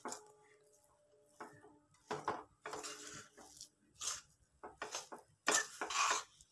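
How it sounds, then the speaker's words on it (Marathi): Sweet shev ladoo mixture being mixed in a pan: a series of scraping and clinking strokes, some soft and some sharper, heard close with pauses between them. "सगळीकडे मिक्स करून घ्यायचं आहे."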